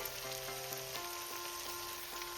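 Garlic and chopped green chili sizzle steadily in hot oil for a Bengali drumstick-flower chochhori, a dense close crackling hiss with faint tonal hum running underneath, no voices.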